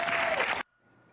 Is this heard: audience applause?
yes